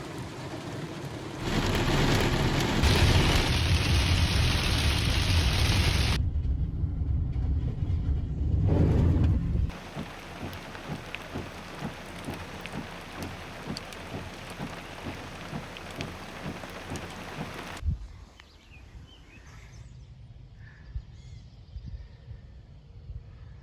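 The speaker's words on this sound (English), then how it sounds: "I got chased out by the rain and some fairly close lightning." Rain pouring steadily, loud and close, with fairly close thunder during a storm at a wildlife refuge; the downpour drops to a quieter patter near the end.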